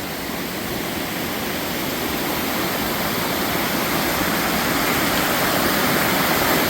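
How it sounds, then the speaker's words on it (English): Loud, steady roar of a waterfall on the East Glacier Loop Trail, a dense unbroken rush of falling water close by that builds slightly over several seconds with no talking. "let's get one more shot of this waterfall"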